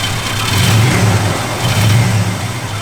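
A 1983 Oldsmobile Hurst/Olds car running close by, its engine rumbling loudly and swelling twice in revs over a steady, deep idle.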